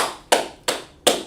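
Three sharp, evenly spaced claps sound close and loud in a classroom, each ringing briefly before the next.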